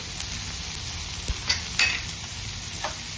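Spatula stirring spices into corn rice in a pan over a low flame, soft sizzling underneath with a few light scrapes and clinks against the pan.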